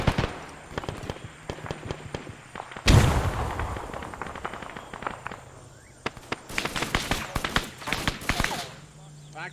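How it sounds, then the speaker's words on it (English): A fragmentation grenade explodes in the Vietnam-era military game ArmA 3, a loud close blast landing mid-clip amid a steady crackle of distant gunfire and further bursts, with people talking over it. "Throwing a frag in."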